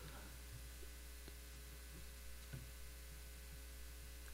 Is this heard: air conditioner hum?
yes